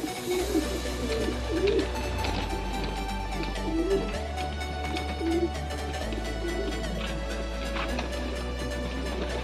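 Several pigeons coo softly and repeatedly nearby over a steady low hum, with occasional faint rustles.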